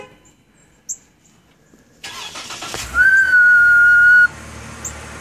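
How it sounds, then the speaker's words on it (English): A 2014 Dodge Ram 1500 pickup starts on a cold morning, the engine catching abruptly and a loud high whistle rising over it, holding steady for about a second before cutting off as the idle continues. "About to start the 2014 Dodge Ram 1500 pickup. It makes a horrible noise every time it starts in the cold."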